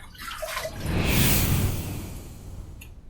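Running water splashes as a razor and face are rinsed after a shave, a close, steady wash that swells in the middle and then eases off, with no talking.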